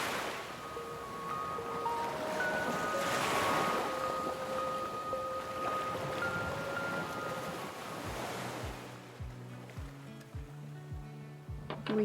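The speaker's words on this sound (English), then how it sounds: "The waves were huge, and they were quite something." Large ocean waves break on a San Diego beach in a continuous close roar of surf mixed with gusting wind buffeting the microphone, with a few dull low thumps near the end.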